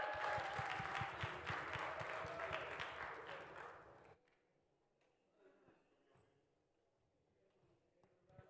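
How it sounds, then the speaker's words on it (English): Festival audience at a Native arts event bursts into loud sustained applause for about four seconds, then it drops away to quiet room noise with faint scattered sounds. "give yourself a round of applause"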